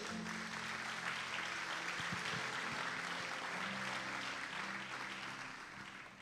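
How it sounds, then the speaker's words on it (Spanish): A church congregation applauds together in a steady, moderately distant patter of clapping that holds evenly and then tapers off slightly at the end. "Denle un fuerte aplauso al Rey"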